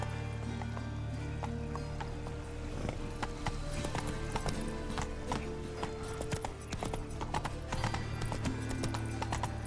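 A horse gallops in The Witcher 3, hooves clip-clopping in a quick steady rhythm over a low droning game soundtrack, with no talking.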